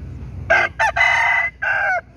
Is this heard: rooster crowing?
yes